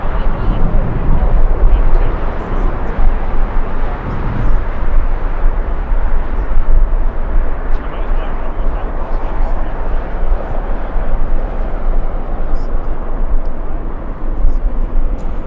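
A Lufthansa Boeing 747 airliner rumbles past at LAX amid strong winds, a loud, broad, steady roar that holds for the whole stretch, with wind buffeting underneath.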